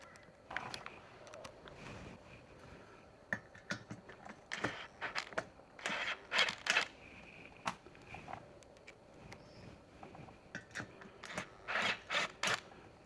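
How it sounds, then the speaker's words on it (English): Screws go in loosely while a Sobowo FAT electric tricycle is assembled, giving faint scattered metallic clicks, rattles and scraping handling noises in bursts close by. "I'm just going to put the screws in loosely to start with, just to position everything nicely"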